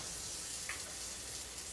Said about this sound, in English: I'm just gonna toss these in our cast iron skillet, and we're gonna sear these up